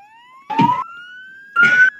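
A police siren in a video game wails in a rising tone, pulsing in two bursts with a quieter steady whine between them.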